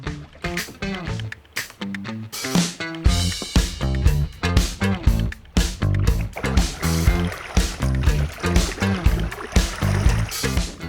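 Canoe pushing off and paddling on Loch Awe in Scotland, rhythmic paddle strokes with splashes and water sloshing against the hull, close and fairly loud, repeating steadily.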